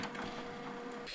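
A printer feeding and printing on a sheet of transparent film for screen-printing a T-shirt: a steady, continuous mechanical whir and rattle, close and fairly quiet, with no talk.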